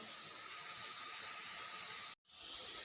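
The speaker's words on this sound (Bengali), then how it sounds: "এখানে চলছে আলু ভাজা" Potatoes frying in a pan make a steady, soft sizzling hiss that cuts out for a moment near the end and then resumes.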